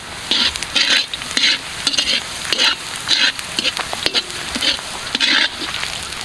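Prawns frying with green chillies in a pan, loud close sizzling broken by rhythmic stirring bursts about twice a second, with a little splatter and no talk.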